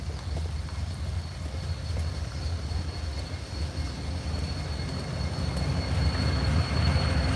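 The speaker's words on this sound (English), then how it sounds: "There's a train going by over here." A train rolls past in Jefferson City, Missouri, a steady low rumble of rail cars with faint wheel squeal, slowly building in loudness and heard from a little distance, with no talking.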